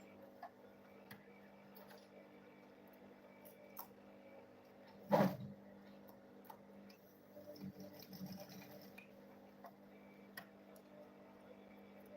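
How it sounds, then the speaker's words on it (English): A sewing machine stitches fabric for a handmade school bag with a soft, steady run of rapid ticking, broken by one loud clunk midway before the stitching carries on quietly. "Then I'll go ahead and sew it now."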